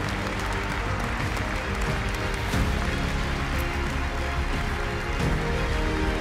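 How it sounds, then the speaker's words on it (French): Audience applause at a centenary celebration, a dense, sustained clapping from a large crowd that stays loud and even for several seconds with no speech over it. "applaudissements pour eux s'il vous plaît"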